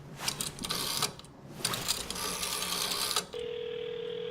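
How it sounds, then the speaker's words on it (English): A telephone rings in the horror video game White Night, loud and close over a dense, noisy backdrop, then gives way to a steady electronic tone near the end. "Oh, there is phone."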